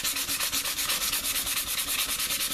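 Resin being sanded by hand with fine 800 grit sandpaper, a close, steady scratchy rubbing in rapid back-and-forth strokes, about ten per second, with no voices.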